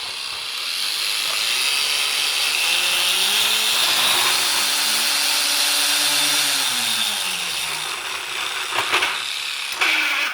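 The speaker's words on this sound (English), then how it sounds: "that's the cordless angle grinder" Parkside PWSA 20-Li D4 cordless 20V angle grinder running at its lowest power setting, a steady loud whine with a shifting hum held for about eight seconds before it spins down with a few clicks and handling knocks.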